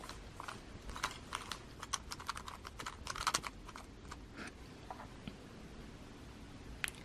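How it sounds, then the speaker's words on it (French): A 3x3 Rubik's Cube being scrambled by hand, quick plastic clicks and clacks of turning layers in irregular bursts, close and soft over a faint background hiss. "je vais mélanger le cube et nous allons pouvoir commencer"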